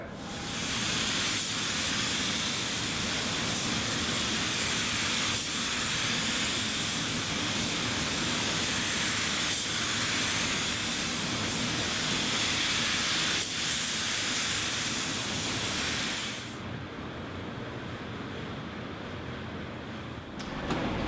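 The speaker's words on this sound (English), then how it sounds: "Let's get the clear coat on" Spray gun laying clear coat onto a car panel, a loud continuous airy hiss lasting over fifteen seconds with faint regular pulses, then cutting off to quieter background.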